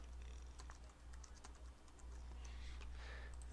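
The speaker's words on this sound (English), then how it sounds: "I'll just type it in." Soft, steady typing on a computer keyboard, a quick run of faint keystrokes over a constant low background hum with no talking.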